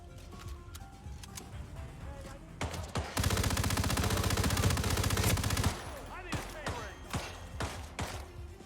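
Gunfire in Hitman: scattered shots at first, then a long, loud, fast automatic burst for a few seconds, followed by a few more separate cracks as things quiet down.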